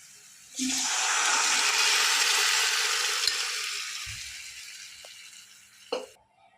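Urad dal is tipped into a pot of hot spices, setting off a loud, steady sizzling hiss that slowly fades over several seconds, with a couple of light utensil clinks near the end.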